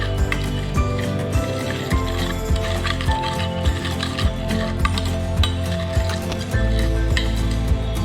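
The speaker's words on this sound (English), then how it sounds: "then slowly you need to start creaming along with the butter" Butter and sugar being creamed together in a bowl for an eggless chocolate cake give repeated scraping and clinking strokes of a utensil against the bowl, a busy, close rhythmic mixing sound.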